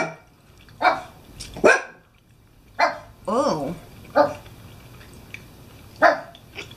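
A dog barks and yips several times in short, loud bursts close by, with people talking in between the barks.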